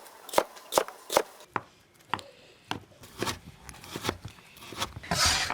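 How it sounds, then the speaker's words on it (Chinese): Knife chopping green beans, potatoes, radish and other vegetables on a board in a home kitchen: a run of sharp, evenly spaced close thuds, then irregular quicker cuts with a rough scraping burst at the end. "切点豆角"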